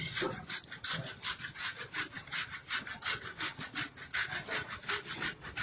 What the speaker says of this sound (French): râper, la citrouille. J'ai pas pris le petit, j'ai pris au moins ce qui est un peu gros dans les trous